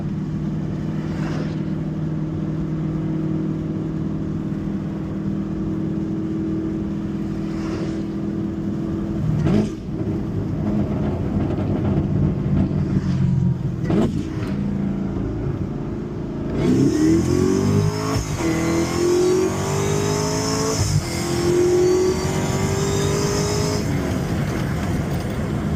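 Chevrolet Camaro ZL1 heard from inside the cabin accelerating hard, engine note climbing and dropping through several gear shifts, with a louder, rising rev run in the second half.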